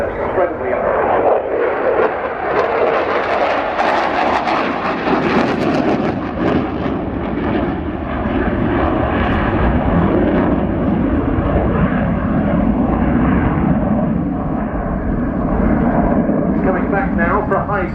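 A Saab JAS-39C Gripen jet roars loudly and continuously through an inverted display turn at an air show, a broad sustained engine rush that swells and shifts as it passes, with commentary over it.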